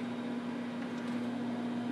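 A microwave oven runs with a steady electrical hum that drones on without a break, with faint background noise around it.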